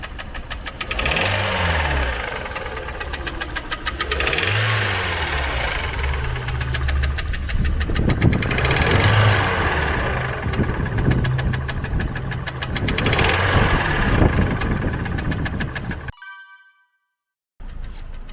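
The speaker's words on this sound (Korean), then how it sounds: "세타 엔진과 동일하게 엔진 노킹음이 엄청나게 많이 들리고 있거든요" A Hyundai Sonata Brilliant with about 100,000 km on it idles with a badly worn engine that knocks hard, giving a loud, steady rhythmic ticking throb with no talk before a brief cutoff near the end.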